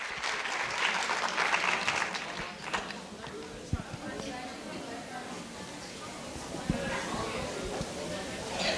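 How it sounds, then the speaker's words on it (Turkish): An audience at a graduation and certificate ceremony applauds as a student walks to the microphone, steady clapping that softens over time, with chatter and a few footsteps mixed in. "Alkışlarla sevgili öğrencimiz."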